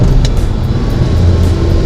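A Lamborghini Countach drives through Miami heat, its engine a loud, close, steady low rumble filling the short stretch with no talking.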